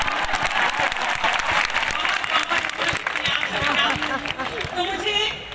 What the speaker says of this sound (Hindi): मुंह दिखाई में ताली बजाओ।